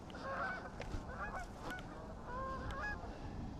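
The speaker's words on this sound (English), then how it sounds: "Do these geese know that they should be well down south by now?" A flock of geese by the water honks repeatedly in overlapping calls at moderate distance, over a steady outdoor background rumble.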